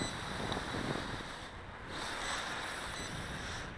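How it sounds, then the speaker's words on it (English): Wind blowing outdoors during a small remote-control quadcopter flight, a steady, rough, broadband roar buffeting the microphone with slight surges and one brief lull midway, and no other sounds standing out. "of course the wind had to kick up as soon as I come out to do some flying"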